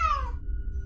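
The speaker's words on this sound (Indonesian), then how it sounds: "Celaka punya kucing." A single short, sharp cat meow sounds close and loud at the start of a Malay horror audiobook, then cuts off, leaving a low steady rumble.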